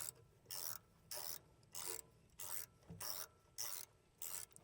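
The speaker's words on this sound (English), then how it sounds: "that way you can run the nut off, clean the threads up" A nut being run off a freshly trimmed bolt on an old backhoe to clean up the cut threads, heard as about eight evenly spaced scraping, rasping bursts with short pauses between them, close up and with no talking.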